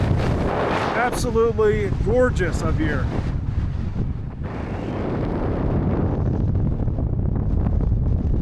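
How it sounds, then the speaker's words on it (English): Strong wind buffets the microphone high on Hurricane Pass in Colorado's San Juan Mountains, a loud steady roar running throughout under a person talking near the start. "It's a little windy."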